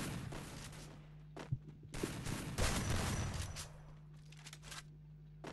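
Gunfire in the mobile battle game Free Fire, with bursts of shots and rapid volleys in short clusters separated by brief pauses, fairly loud and close with no voices.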